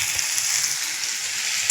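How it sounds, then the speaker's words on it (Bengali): Spice paste sizzles and fries steadily in a pan, a constant close hiss with faint soft bumps underneath. "এখানে মশলা কষানো হচ্ছে"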